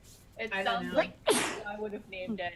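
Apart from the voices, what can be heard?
sneeze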